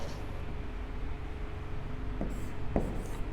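Chalk or marker writing on a classroom board during an economics lesson, a faint continuous scratching under steady background hiss, with a couple of brief taps near the end.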